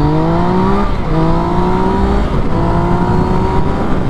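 A car engine pulls loudly nearby on a street in Brazil, its revs climbing through stepped gear changes in a steady, droning rise that stays close throughout.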